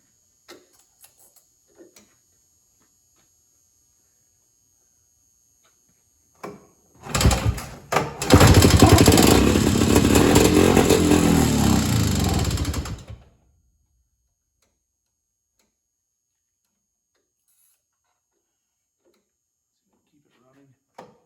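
An Evinrude Bob-Rat snowmobile engine, decades old and fed mixed fuel, coughs a few times and then runs roughly for about six seconds, loud and close, before cutting out into silence with scattered clicks.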